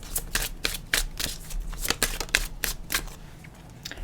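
Tarot cards being shuffled and drawn, close rapid riffling and flicking bursts in an uneven rhythm, crisp and alone without talking.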